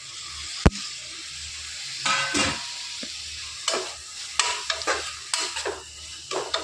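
Tomatoes are sautéed in a pan of ginger-garlic paste for brinji rice, with irregular scraping stirs and bursts of sizzle, plus a sharp knock early on.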